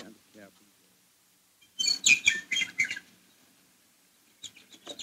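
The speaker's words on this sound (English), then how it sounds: "The sun was shining, the birds were singing" Birds chirp and twitter outdoors on a sunny morning, a bright burst of song in the middle and a shorter call near the end, with a faint voice at the start.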